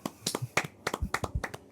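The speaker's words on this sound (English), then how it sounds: "people who clap when the plane lands" Several people clap a few times as a joke about applauding a plane landing, giving a short scattered burst of hand claps, close and fairly quiet, with no talking.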